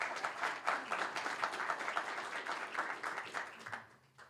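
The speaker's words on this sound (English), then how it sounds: "A nice warm round of applause for Jerry" An audience gives a judge a warm round of applause at a regional idea pitch event, a fairly faint, steady wash of clapping that fades toward the end.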